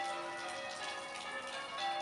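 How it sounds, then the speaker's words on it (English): The church bells of St Mary's Church in Hemel Hempstead ring steadily from a distance outdoors, faint and continuous with lingering tones and no talk over them. "it's the church bells calling the parishioners to worship"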